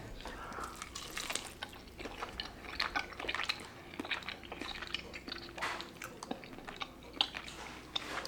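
Someone bites into and chews a grilled chicken drumette cooked over direct heat on a grill. Soft, moist chewing and small squishy bites sound close and quiet over faint background hiss.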